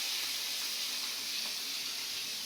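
Hilsa fish head pieces fry in hot oil, a steady, close, hissing sizzle without pause.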